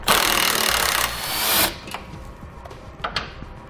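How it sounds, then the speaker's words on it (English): A power tool with a 10mm socket spins out silver bolts from the bottom of a 2018 Jeep base plate area, giving a loud close whir for over a second, then quieter clicks and clanks of handling with no talking. "Now remove the 4 silver colored bolts on the bottom using a 10mm socket."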